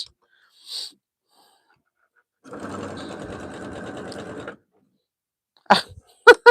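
A sewing machine runs a straight stitch in one steady, close burst of about two seconds, followed by a few small clicks and handling sounds.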